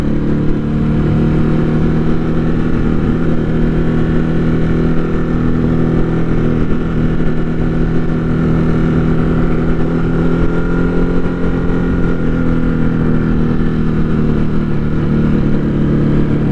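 Steady, loud engine drone of a Ducati Hypermotard 950 RVE motorcycle cruising up the road, with a constant rumble and wind noise held at an even level throughout, no voices.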